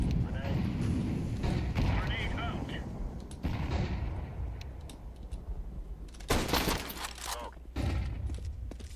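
Grenade blasts in Counter-Strike 2 land as sharp, booming bursts amid scattered game gunfire, heard under a player's voice chat.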